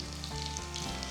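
Sliced garlic fries in hot oil for a Kottayam-style fish curry, giving a steady, close, even sizzle that carries unbroken through the whole moment with no voices.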